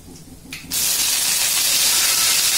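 Mustard seeds and curry leaves hitting hot oil in a pan, a sudden loud hiss and sizzle that bursts in after a soft start and then holds steady.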